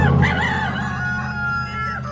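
Free-range chickens near a nesting box in a duck-raising yard give loud, close, drawn-out crowing and clucking calls that carry on without a break.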